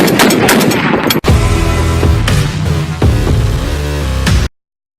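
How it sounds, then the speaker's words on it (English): Rapid bursts of gunfire at an outdoor shooting range, loud and close, with a brief break near the first second, then continuing shots and sharp reports before cutting off. "we're out at the range, and we're going to do a little shoot and have some fun."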